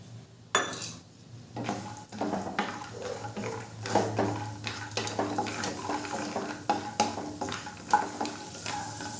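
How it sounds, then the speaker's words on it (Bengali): Peanuts fry in two spoons of white oil in a wok, a steady sizzle under repeated scraping and clinking as a spoon stirs them, close and alone with no voices. "প্রথমেই আমি চিনেবাদামগুলোকে ভেজে নেব।"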